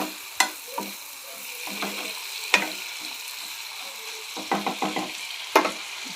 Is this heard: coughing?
no